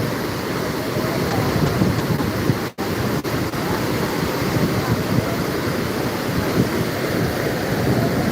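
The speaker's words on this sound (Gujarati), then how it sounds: "અંદાજીત કોજવે ઉપરથી બે ફૂટ ઉપર પાણી અત્યારે જઈ રહ્યું છે" Tapi river water runs about two feet deep over a causeway, a loud, steady rush with no break apart from one brief dropout.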